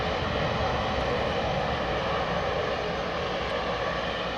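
A KLM airliner at London Heathrow gives off a steady, broad engine roar that holds even and fairly loud for the whole stretch, with no voices over it.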